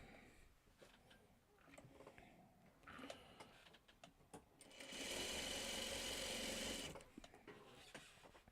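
A sewing machine stitches fabric in one steady, loud burst of about two seconds in the middle of the clip, framed by quieter handling noises and faint talk.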